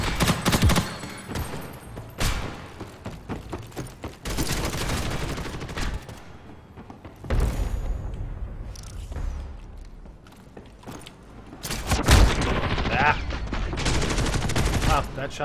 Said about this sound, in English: That shotgun hit from really far away.